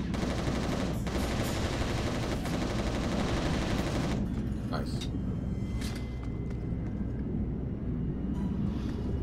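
Gunfire in the video game Resistance: Retribution rattles as dense rapid bursts under a constant loud battle rumble, while players talk over it.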